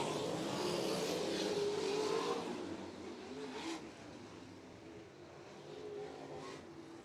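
Sprint cars race in the Great Lakes Super Sprints feature at Crystal Motor Speedway in Michigan. Engines drone and rise faintly at a distance, swelling and fading as they pass, with no voices.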